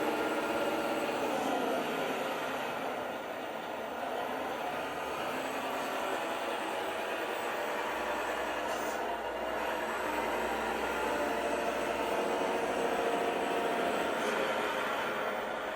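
Sound module in a Nylint RC dump truck idling with a steady, continuous engine drone at moderate level, unbroken and unvarying throughout with no voices.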